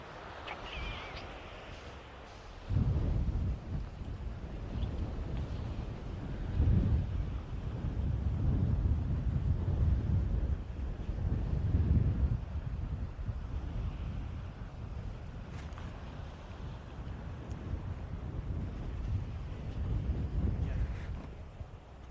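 Wind gusting across a golf course at Dunstanburgh Castle, a continuous rough buffeting roar on the microphone that swells and eases in several surges over about twenty seconds.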